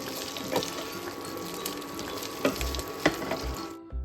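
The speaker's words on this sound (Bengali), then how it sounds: "কড়াই সাদা তেল গরম করে ফ্রেঞ্চ ফ্রাইজ, ফ্রোজেন ফ্রেঞ্চ ফ্রাইজগুলো দিয়ে দিয়েছি" Frozen french fries frying in hot white oil in a wok give off a steady, close sizzle and bubbling, with a few soft clinks of a utensil against the pan near the end.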